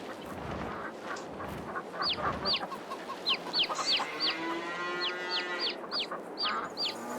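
Chickens cluck in Farming Simulator 22 in repeated short, sharp calls over a soft background hum, the bursts coming in quick irregular clusters.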